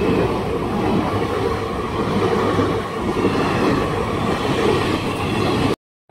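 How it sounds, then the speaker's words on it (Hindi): A passenger train rolling along the rails between Ajmer and Delhi, heard from on board as a steady, loud rumble with a continuous wheel-and-track drone that cuts off abruptly at the end. "बैठे देखना अभी ट्रेन कैसे जाएगी।"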